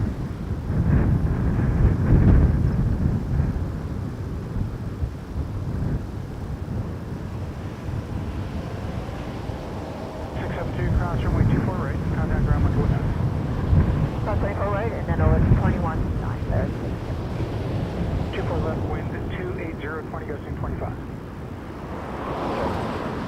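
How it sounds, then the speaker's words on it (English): An Airbus A330 airliner landing at Toronto Pearson in strong wind, a steady low jet rumble with gusting wind buffeting the microphone, while voices talk underneath. "Let's watch this 330 battle the wind."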